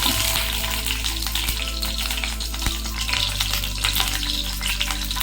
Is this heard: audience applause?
no